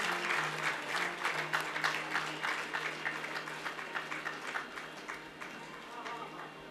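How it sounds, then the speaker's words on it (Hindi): Enthusiastic audience applause at a gathering, a crowd clapping with scattered rhythmic bursts, moderately loud and fading slightly, with voices in the background. "इंद्र अग्रवाल जी के लिए जोरदार तालियां हो जाएं भाई।"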